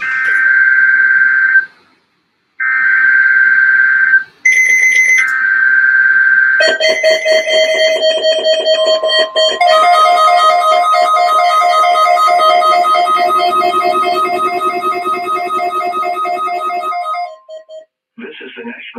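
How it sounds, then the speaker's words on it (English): An emergency alert system test airs on a radio broadcast, with a two-tone warning beep repeated several times, then a long steady multi-tone alarm that holds loud and continuous before cutting off. "The preceding alarm tone was a test of the public warning system"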